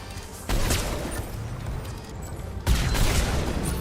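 Gunfire in Mass Effect 3 Legendary Edition, modded: two sudden bursts of shots, one near the start and one near the end, each trailing into a sustained rumbling clatter at moderate loudness.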